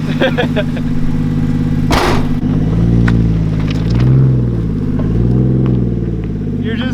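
Nissan 240SX engine idling while warming up, a loud, steady low rumble close by with a slight rise and fall in pitch, and a brief burst of noise near the start.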